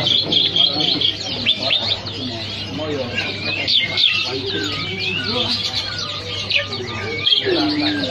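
Bright, rapid chirping and tweeting from small Javan sparrows (gelatik tompel) at a bird market stall, near and continuous, with a faint low hum and occasional background voices.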